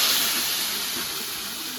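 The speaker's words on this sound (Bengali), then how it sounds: "এইভাবেই ঝিঙেটা একটু হালকা করে ভেজে নেব" Large pieces of ridge gourd frying in a small amount of oil for a Bengali home-cooked dish, a brief, even sizzling hiss that continues without a break.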